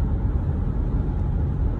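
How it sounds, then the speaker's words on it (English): A 1964 Chevrolet C10 truck on a swapped 1991 4WD chassis cruises down a highway, its steady low engine and road rumble filling the cabin continuously without letup. "Just driving. Boring, long drive."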